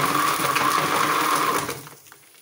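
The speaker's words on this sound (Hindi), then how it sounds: "अब हम इनको ग्राइंड कर लेंगे अच्छी तरह से।" An electric kitchen grinder whirs loudly as it blends lemons for lemon water, a steady high buzzing motor that runs alone for about a second and a half, then cuts off and fades.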